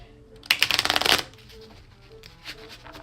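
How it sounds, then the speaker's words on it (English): A new Infinitum Tarot deck with heavy, high-quality card stock is riffle-shuffled up close, a dense burst of fluttering card slaps lasting under a second, followed by a few soft handling taps. "let me go ahead and shuffle, shuffle, shuffle"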